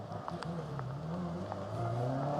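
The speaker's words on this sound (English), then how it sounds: "If you're going to go around twice, do a donut" A Subaru Legacy rally car spins a donut on a stage of a historic rally festival, its engine droning steadily at a distance and rising slightly toward the end under a faint background wash.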